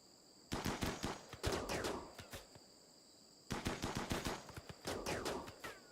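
Gunfire in the video game Rimworld, heard as two separate bursts of rapid cracking shots, each a few seconds long, with a brief quiet gap between them.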